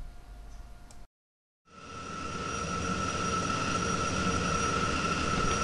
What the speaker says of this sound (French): Nous voici dans l'avion, la mise en route a été effectuée